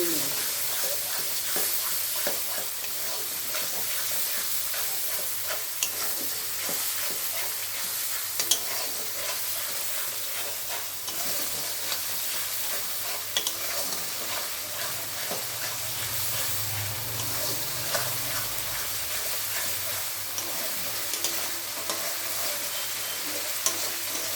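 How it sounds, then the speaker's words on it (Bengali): Soya chunks cooking in a pan with yogurt and oil, giving a steady low sizzle and frying hiss with occasional stirring scrapes throughout, no talking. "দেখুন এটা একটু কষানো হয়ে গেছে"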